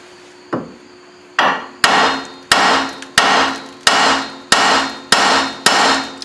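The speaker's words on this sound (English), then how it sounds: "So now we're going to hit this with a hammer." A hammer strikes the front axle of a 2002 Dodge Durango in eight loud, sharp metallic blows, starting with one lighter tap and then falling at a steady, roughly half-second rhythm, close up with no talking.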